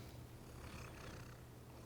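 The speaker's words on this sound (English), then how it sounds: "She's actually been meowing at the door for a little bit." A domestic cat purring softly and steadily at close range, a low continuous rumble with no talking over it.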